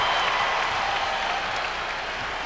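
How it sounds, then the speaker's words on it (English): Charged-up crowd at the Forum for a 1998 Lakers vs. Utah Jazz regular-season finale, a steady, dense roar of cheering and clapping that holds loud throughout without pause. "A lively, charged up crowd here today at the Forum."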